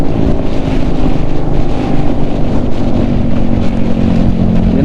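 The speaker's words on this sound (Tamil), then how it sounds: "வா, செம்ம எக்ஸாஸ்ட்டு சவுண்டு. R15 எக்ஸாஸ்ட்டு போட்டிருக்காங்க" A motorcycle fitted with an aftermarket R15 exhaust gives a loud, continuous, throbbing drone heard close up while riding, with a steady rumble under heavy wind buffeting. No one speaks.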